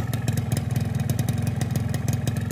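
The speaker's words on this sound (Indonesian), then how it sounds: "Ini mesin baru banget nyala" Freshly started two-stroke motorcycle engine idling, a steady close rapid clattering putter with even pulsing rhythm, loud and alone.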